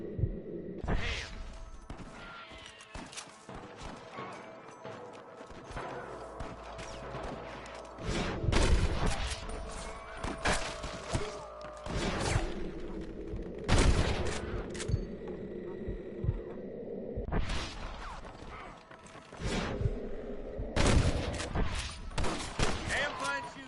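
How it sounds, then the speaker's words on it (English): Gunfire shootout in the western video game Red Dead Redemption: bursts of sharp gunshots and volleys crackle repeatedly across the scene, loud and close, with stretches of steady fire between clusters, while game dialogue is spoken intermittently underneath. "Damn fine shooting, boys."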